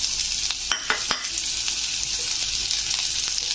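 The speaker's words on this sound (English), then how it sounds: "Adding onion" Onion sizzles and fries in hot oil inside a pressure cooker, a steady close crackling hiss with a few sharper stirring clatters near the start.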